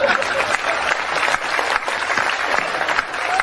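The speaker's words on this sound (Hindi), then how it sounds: "2-3 लोग ताली बजाइए" Steady applause from a small live audience at a Hindi comic poetry recital, continuous clapping that holds at an even level throughout with no pauses.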